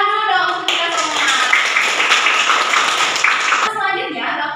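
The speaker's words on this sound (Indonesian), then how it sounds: "Tepuk tangan dulu dong untuk kita semua." A class in a microteaching session breaks into brisk group clapping, several seconds of dense applause between stretches of a speaking voice before and after.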